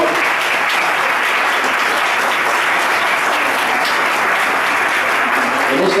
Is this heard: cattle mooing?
no